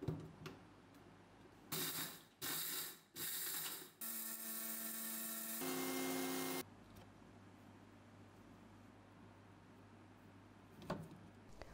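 Roasted masala spins in a covered mixer grinder in three short loud bursts, then runs in one longer continuous whir before stopping, with quiet clatter and handling noise around it.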